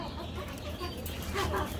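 Active, molting hill chickens of the crested breed cluck in short, soft bursts at close range over a low background hum, with no clear talk.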